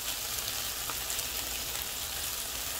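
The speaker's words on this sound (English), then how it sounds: "I am making some sauteed mushroom, spinach, potato, onion, and peppers" Mushrooms, spinach, potato, onion and peppers sauté in a pan for a breakfast of veggies and sunny-side-up eggs, giving a steady, soft broadband sizzle. The sound holds even and faint throughout, with no voices.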